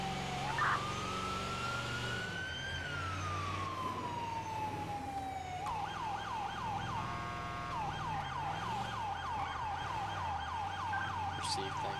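An ambulance siren in the FiveM video game wails up and down, then switches to a faster yelp pattern. It stays loud and continuous over a low engine rumble.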